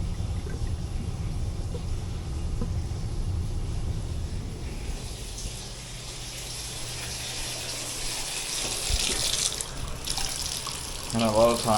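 A gallon of water is poured into an air conditioner's condensate drain to flush it, making a steady splashing gush that runs continuously and swells louder near the end.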